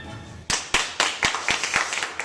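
An audience claps in sparse, sharp, separate claps during a comedy acting performance, about eight or nine distinct hits spaced unevenly over a couple of seconds.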